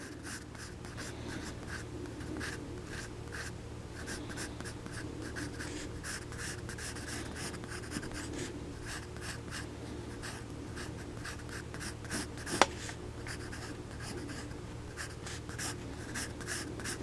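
Pencil sketching a figure drawing on paper: steady, continuous scratchy strokes throughout, close and fairly quiet, with one sharp tap near the end and no talking.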